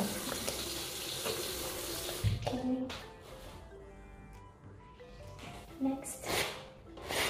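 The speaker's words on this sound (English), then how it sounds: "first is wash your face" Tap water runs into a sink during face washing at night, a steady broadband splash with brief interruptions and splashing bursts, with a person talking over it.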